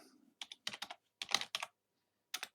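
Quick, crisp keystrokes on a computer keyboard come in short clusters with brief pauses between them, close and fairly quiet in an otherwise silent room.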